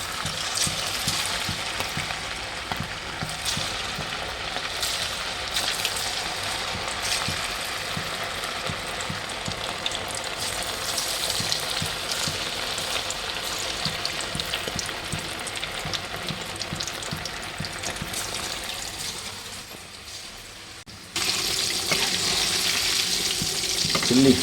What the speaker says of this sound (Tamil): chilli fish pakoda, chilli fish கறிக்கு வந்து நம்ம ஆயிலில் போட்டு சேர்த்துக்கலாம்